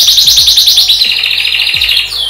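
A canary sings close and loud, a rapid continuous run of high trills and chirps lasting a couple of seconds.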